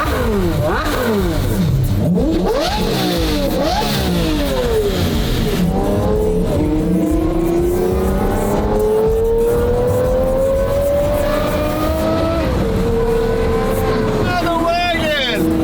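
A Porsche Carrera GT supercar driven hard from inside the cabin, its engine loudly revving and rising through the gears with sweeping pitch changes, voices talking over the roar at times.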